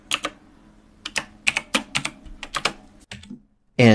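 Bursts of computer keyboard typing while code is entered in C#, clusters of close, crisp key clicks separated by short pauses, ending in a louder rustle, with no voices.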